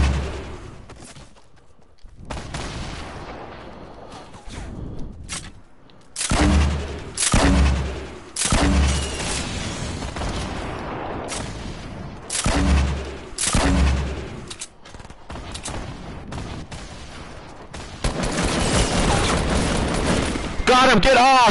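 Bursts of gunfire in a multiplayer shooter match, loud volleys and rapid shots coming in repeated clusters, mixed with excited voices of several players talking over the action.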